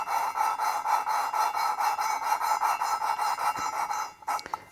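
An engine valve from a VW/Audi 2.0T Gen3 engine build is being lapped against its seat with abrasive lapping compound, giving a continuous, rhythmic gritty rasping that pulses with each back-and-forth turn, close and loud, before stopping with a few clicks.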